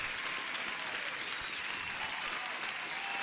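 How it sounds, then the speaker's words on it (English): Continuous dense applause, even and steady throughout, somewhat faint and washy, as if from a crowd recording played during a live day-trading stream. "You deserve the applause, man."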